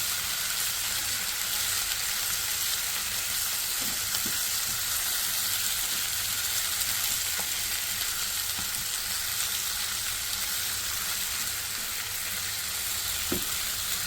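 Fenugreek (methi) softens in a pan with a loud, constant hissing sizzle, steady and close, with an occasional faint tap of stirring.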